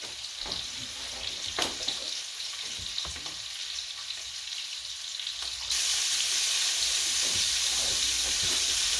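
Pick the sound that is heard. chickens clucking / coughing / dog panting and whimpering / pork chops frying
pork chops frying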